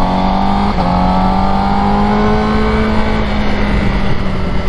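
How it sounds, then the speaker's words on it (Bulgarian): A motorcycle engine revs steadily in second gear, its tone climbing and holding as it pulls, loud and close throughout with no talking. "Този мотор можеш тук само на втора да даваш газ"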